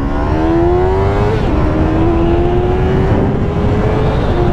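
A 102 hp Honda CBR600F motorcycle pulls hard in first gear, its engine note climbing steadily in pitch with a brief dip where the throttle eases before rising again, loud and close against rushing wind.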